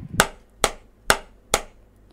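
Four loud, sharp drum hits land at a steady pace, each strike punchy and bright with a short ring before the next.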